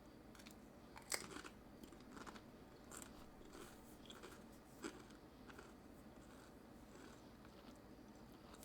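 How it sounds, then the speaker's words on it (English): Someone eats crunchy food close to the microphone, with a few sharp bites and steady soft chewing crackle over a quiet background. "That may have been a loud crunch"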